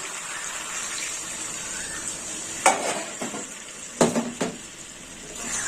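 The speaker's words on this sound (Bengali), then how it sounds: "ভালো করে নেড়ে চেড়ে নেব।" Mutton curry being stirred in a pot after water has gone in, a steady simmering hiss with a few distinct scraping clanks of the spoon against the pot near the end.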